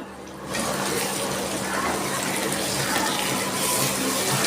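Rinse water from a spice bowl pours into a pan of frying spice paste with garlic and ginger, a steady broadband gush and sizzle that starts abruptly after a brief quiet moment and runs continuously, fairly loud.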